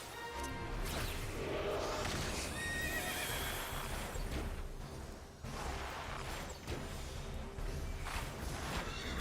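Horse whinnies and neighs repeatedly over clip-clopping hooves, with occasional crashing hits in a busy soundscape from the video game Final Fantasy XIV.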